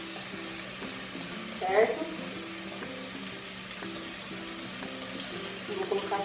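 Seasonings sizzling in hot oil in a pan, a steady bubbling fry crackling at close range, with someone speaking briefly over it.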